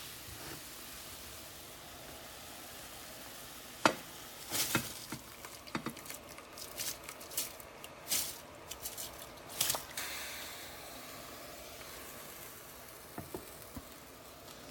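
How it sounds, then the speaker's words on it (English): Dry rice poured into a pot of water for Puerto Rican white rice gives a string of soft splashes and sharp patters in uneven bursts, near and fairly quiet over a low steady hiss. "Next step is to add the rice."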